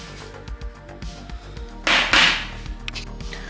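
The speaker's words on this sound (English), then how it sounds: "put weight on it, and hit it with your hammer" Hammer blows on an impact driver jammed into a Harley-Davidson four-speed gearbox during a rebuild: a few sharp metallic strikes spaced through the clip, one loud ringing clang in the middle, close and with no talking.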